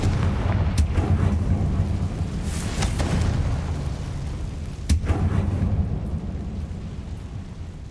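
Confringo blast spell going off in the video game Hogwarts Legacy, a loud rumbling explosion with sharp cracks near the start and again partway through, fading into a dull roar.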